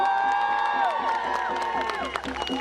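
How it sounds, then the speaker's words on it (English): A crowd at a Sudan solidarity march outside the BBC cheers and claps for a 17-year-old speaker, a loud, dense outdoor roar with whoops and shouts rising over steady clapping, with voices mixed through. "so give him a round of applause"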